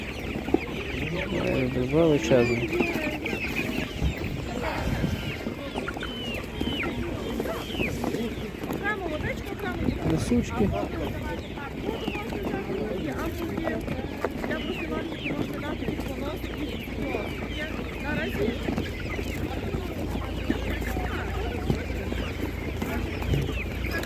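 Chickens cluck repeatedly at an outdoor animal market in Nadvirna, their clucks and short calls scattered over a busy crowd murmur as people talk nearby.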